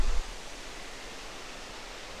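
Rainbow Falls in North Carolina, a waterfall rushing in a steady broadband wash, heard from some distance along the trail, continuous and even, with a brief low thump at the start.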